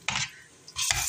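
Onion and garlic hit hot oil in two bursts of bright, loud sizzling with a brief quieter gap between them, with no talking.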